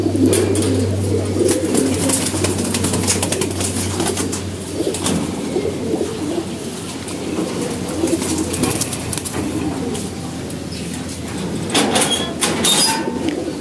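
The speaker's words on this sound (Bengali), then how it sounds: "মাশাআল্লাহ, অনেক সুন্দর কবুতর, মাদি কবুতর।" A pigeon coos softly and repeatedly at close range, low rolling calls over a constant background hum.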